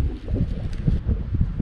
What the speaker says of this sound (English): Sorry guys, we got wind today.